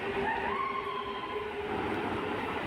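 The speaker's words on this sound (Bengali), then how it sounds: "ট্রেন বেরিয়ে যাচ্ছে খিদিরপুর স্টেশন ছেড়ে" Train pulling out of Khidirpur station in Kolkata, a steady rail rumble mixed with a faint whining tone that bends slightly, heard continuously at close range without talk.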